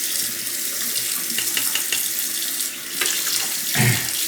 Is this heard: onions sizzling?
no